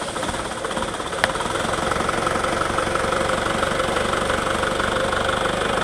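An Isuzu Panther diesel car engine idles steadily after starting, a close, continuous rough drone with a faint knocking texture and one brief click near the start.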